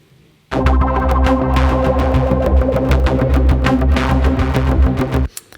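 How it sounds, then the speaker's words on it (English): A big, warbly synth line sample triggered from a dirty-electro generative sample player built in openFrameworks, a dense, loud, throbbing tone with rapid pulsing that sustains for about five seconds before cutting off abruptly. "so I've chosen this big warbly synth line, which is sample 7"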